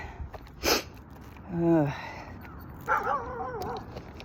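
A dog makes short whining, yelping vocalizations with a brief snuffling sound, close by in a quiet outdoor setting.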